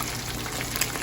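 Steady crackling sizzle of cornmeal-coated tilapia frying in a pan, dense and close, with no voices.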